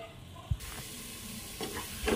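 Ground masala for egg butter masala frying and being stirred in a pan, a quiet sizzle with a sharp clank near the start and brief scraping stirs later, close up.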